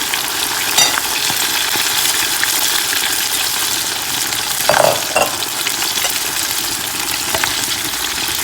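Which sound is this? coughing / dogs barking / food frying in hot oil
food frying in hot oil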